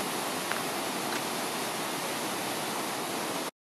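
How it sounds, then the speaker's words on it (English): Water rushing over a debris flow dam on Harvey Creek near Whistler, fed by mountain snowmelt, fills the air with a loud, steady, broadband roar close by, unbroken throughout with no voices. "This is the debris flow dam. It's very loud."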